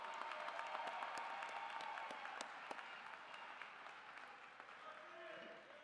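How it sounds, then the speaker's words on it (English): An audience applauds at San Jose State University's 43rd Annual Black Commencement Celebration. The dense, continuous clapping sounds faint and distant and slowly tapers off. "Let's give Rocky one more round of applause."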